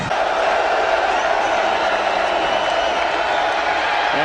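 A stadium crowd roars steadily after a touchdown in the College Football 2007 video game, a dense continuous wash of cheering with no clear breaks, and commentary voices faintly mixed into it.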